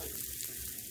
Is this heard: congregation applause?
no